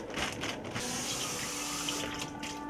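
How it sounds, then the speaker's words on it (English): Tap water runs into a sink while rice is rinsed under it, a steady rushing splash with faint sloshing, moderately quiet and without talk. "I'm just going to rinse it and dry it really quickly"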